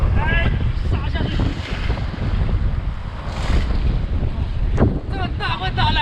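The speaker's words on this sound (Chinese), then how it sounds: "哇，这几天真是大风大浪" Strong wind gusts buffet the microphone while big waves surge and wash onto the shore, a steady roar of surf and wind, with a few voices talking briefly over it.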